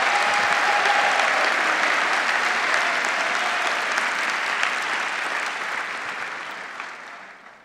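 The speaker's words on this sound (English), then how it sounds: "Give him a round of applause." A large event audience at a Society of World Changers gathering breaks into loud, sustained applause, dense clapping holding steady before gradually fading out at the end.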